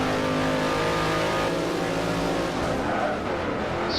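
V8 Supercars race in Forza Motorsport 4, with loud continuous engine roar from several cars accelerating and revving, brief tire squeal, and pitch shifts as the cars pass through a corner.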